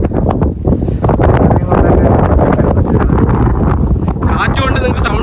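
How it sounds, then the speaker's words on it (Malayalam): Strong wind buffets the microphone on an exposed rock atop a hill, a loud, continuous roaring rush that fills the whole stretch, with a voice talking in the middle of it. "ഭയങ്കര കാറ്റ് കേട്ടോ. നല്ല കാറ്റ്."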